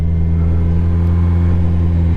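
Heavy engine rumble from motorcycles halted in road traffic at roadworks on the San Bernardino Pass, a loud, steady low drone close by.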